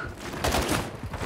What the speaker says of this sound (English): Oh, it's a grenade!